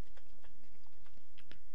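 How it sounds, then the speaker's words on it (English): A computer keyboard tapped slowly with a single finger: a dozen or so light, uneven clicks spaced irregularly, close and clear over a faint room hiss, with no voices. "I'm typing with one finger"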